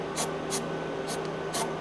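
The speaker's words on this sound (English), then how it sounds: "I'm going to spray some silicone in here." Silicone spray is sprayed into a radiator hose on a Ford 6.7 diesel in four short, close hissing bursts with brief gaps between them.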